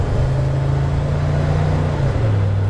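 A 1963 Chevrolet Impala pulling away, its engine drone rising steadily, then dropping in pitch as the transmission shifts into the next gear near the end; loud, close, no talking.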